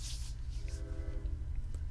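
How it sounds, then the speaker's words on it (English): Train rumbling by in the background with a low steady roar and a brief horn-like tone, distant and fairly faint. "As always, there's a train."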